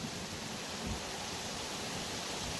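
Heavy rain pouring down as a dense, even roar of noise, with a low thump partway through.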